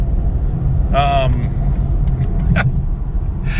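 A BMW 330 four-cylinder engine drones and rumbles steadily as the car accelerates, with brief voice-like sounds cutting in over the low road noise.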